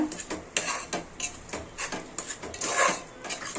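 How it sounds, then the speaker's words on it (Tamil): Almonds and cashews stirred with onion and tomato in a pan for hotel-style chana masala, giving repeated light scraping and clinking strokes of a spoon against metal at a steady rhythm, close by with no talk. "பத்து பாதாமும் பத்து முந்திரியும் வந்து நம்ம சேர்த்துக்கலாம் சேர்த்துட்டு இதையும் நல்லா வதக்கிக்கலாம்"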